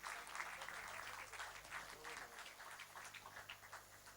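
Sustained applause from a conference audience as a speaker is called on stage for an award ceremony, steady dense clapping throughout, with faint voices mixed in beneath it.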